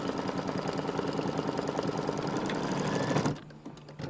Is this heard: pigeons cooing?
no